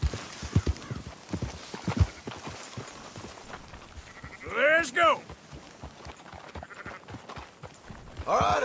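Horses clip-clop steadily with hoof beats throughout in Red Dead Redemption 2, while a sheep bleats loudly twice near the end, one long call in the middle and another at the close.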